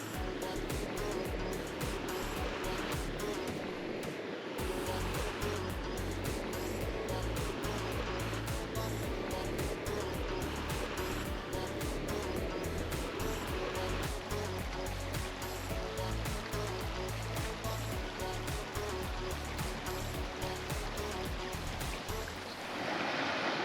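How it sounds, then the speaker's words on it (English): La Verkin Creek in Zion National Park rushes steadily and continuously, a broad, even flowing roar with small splashes, heard up close with no talking. "Have that nice sound of the creek the whole night long to put you to sleep"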